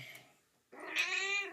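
A pet cat lets out one drawn-out meow after a short silence. It comes through close and clear, rising then holding steady, with a faint bit of indoor noise before it.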